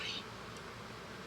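Bees or wasps buzz around an opened honey super of a beehive, a faint, steady insect drone with a slightly brighter whine at the start.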